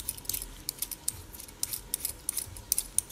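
Tiny whole garden carrots scraped with a vegetable peeler, a quick series of light, close rasping strokes with brief pauses between them.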